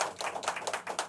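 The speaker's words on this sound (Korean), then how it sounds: "박수 한번 쳐주세요, 여러분." A church congregation claps together at a Sunday morning service, loud, sharp slaps that fall fast and come clearly close by for just over a second.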